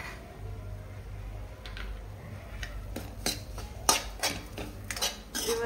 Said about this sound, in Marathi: आणि आता ते छानपैकी मिक्स करून घ्यायचंय